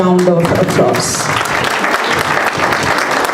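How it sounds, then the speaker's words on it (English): A conference audience breaks into loud, sustained applause to welcome guests, a dense wash of clapping that swells in over a speaker's closing words and continues at full strength. "Let us welcome them with a big round of applause."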